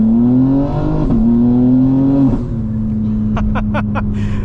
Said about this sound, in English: that was actually a launch control